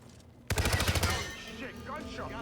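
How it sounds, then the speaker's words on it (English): Rapid burst of gunfire in the HITMAN video game, a sharp onset followed by about a second of quick repeated shots, then fading with a voice speaking faintly underneath. "Shit, gunshot!"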